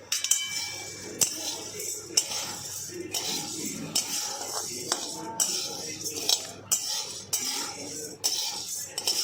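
Ingredients for a Navratri farali nuggets recipe are dry roasted in a pan, with a metal spoon repeatedly clinking and scraping against the pan in an uneven rhythm, close and fairly loud.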